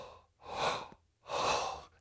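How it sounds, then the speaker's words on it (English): Two heavy, slow, deep breaths taken after a hard fighting round, each a long rushing draw of air separated by a short pause, close and clear with no talk. "If I come out of a hard round, this is how I breathe."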